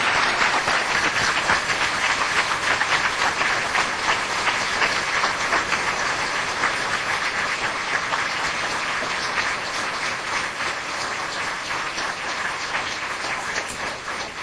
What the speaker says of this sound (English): Thank you for your nice applause, by the way.